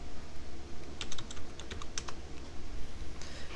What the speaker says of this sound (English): you're going to need to go to Google and type in